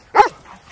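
A poodle gives one short, sharp bark close by, then falls quiet.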